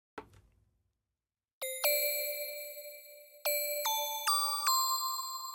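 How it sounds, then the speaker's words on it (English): A short plucked note, a pause, then a series of bright bell tones struck one after another, each ringing out and overlapping. "The bells."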